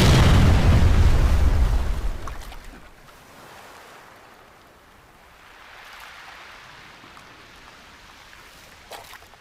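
A fire ship rams and explodes during a pirate naval battle in Age of Empires 3: a loud, deep blast rolls out over about two seconds, then fades into steady ocean surf with a faint crack near the end.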